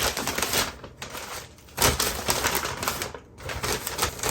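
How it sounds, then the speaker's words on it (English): Two cakes being slipped into a paper bag on a picnic, wrapped in wax paper. The paper gives close, loud, continuous crinkling and rustling, with two brief pauses. "now I'm going to put the two cakes in the paper bag"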